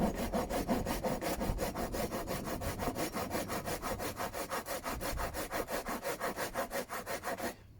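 A saw cuts straight down into a piece of wood for a camping peg, steady rapid back-and-forth strokes rasping close by for several seconds before stopping abruptly.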